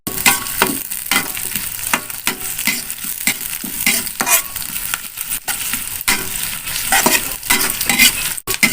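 Chilies and garlic fry in hot oil in a pan, a loud steady sizzle with crackles and occasional scraping of a spatula as they are stirred, close up and continuous.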